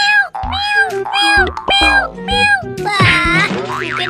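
Several stretched, wavering meows with a cartoonish, musical quality ring out loud and close, seemingly a voice imitating a cat in a playful clown-head comedy skit, over bouncy background sounds.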